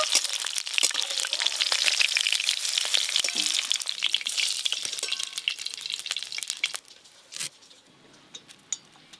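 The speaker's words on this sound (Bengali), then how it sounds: "ক্যাপসিকাম গরম তেলে 2-1 বার হালকা করে নেড়ে নিয়েছি" Capsicum fries in hot oil with a loud, crackling sizzle and sharp pops for about seven seconds, then the sound fades to faint, scattered crackles.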